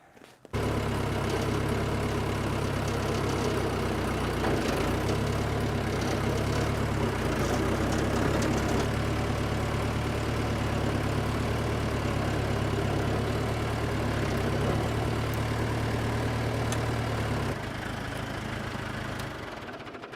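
A John Deere 450B crawler dozer engine running in gear, a loud, steady low diesel drone with a rhythmic knocking pulse that holds almost unchanged throughout.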